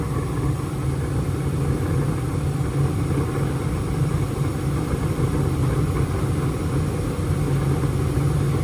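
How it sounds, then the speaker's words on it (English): A furnace runs after being fired up, a steady loud roaring drone with a low hum that never changes. "so I'm gonna go ahead and fire up the furnace"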